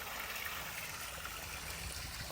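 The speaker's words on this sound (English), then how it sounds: "Waterfall." Water from a small waterfall in a garden pond with rocks, fish and conifers splashes and flows in a constant, even rush, faint and without voices.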